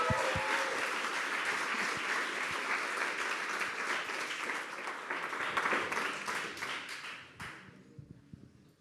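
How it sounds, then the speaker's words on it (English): An audience at a demo day applauding, a dense sustained round of clapping that fills the room, then thins out and fades near the end. "Huge applause for them."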